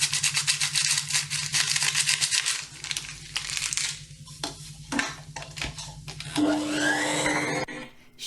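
Electric mixer beating pumpkin pie dough at low speed, a steady humming motor drone for the first few seconds, then clattering, rustling and bowl knocks as mixing pauses and resumes.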